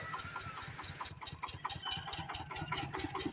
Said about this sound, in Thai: ก่อนเราขึ้นรถนะคะเราก็ทำการเช็คเครื่องวอร์มเครื่องกันอีกรอบนึงค่ะ